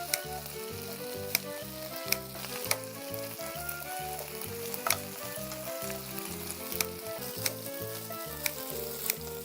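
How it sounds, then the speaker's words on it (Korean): Marinated LA galbi sizzles and crackles steadily in a hot pan, a dense, close frying hiss with small pops and an occasional stirring scrape. "자글자글 소리에 명절 분위기 이 정도 자글자글 해야 됩니다."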